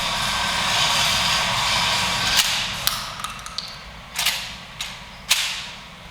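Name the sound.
shotgun being fired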